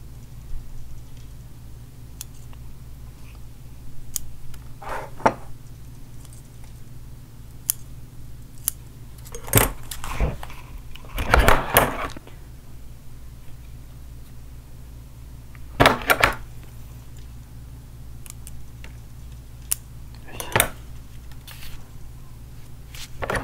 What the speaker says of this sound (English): cut the necessary leaves to make it more cleaner finish